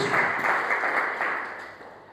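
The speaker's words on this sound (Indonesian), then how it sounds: "Tepuk tangan terbaik buat Tuhan Yesus." A church congregation applauds during a sermon, a steady wash of clapping that swells near the start and slowly fades over about two seconds, fairly close and without talk.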